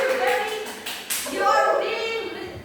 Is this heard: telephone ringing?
no